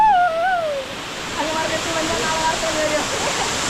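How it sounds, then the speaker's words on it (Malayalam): Water rushing steadily at Madassery waterfall, a broad continuous roar close by, with a voice speaking briefly over it at the start. "ഇതാണ് നമ്മുടെ മലയഗിരി വാട്ടർ ഫാസ്"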